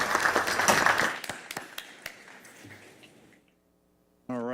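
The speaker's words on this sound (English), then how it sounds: "How about a round of applause for our JROTC cadets from Arsenal Technical High" An audience at a school board meeting applauds JROTC cadets from Arsenal Technical High School, a burst of clapping that thins into scattered claps and fades to silence, followed by a voice starting to speak.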